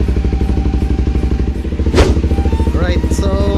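A Kawasaki Z250 motorcycle idles up close with a loud, steady, rhythmic engine thrum, briefly punctuated by a clattering thump and a short higher whine near the end.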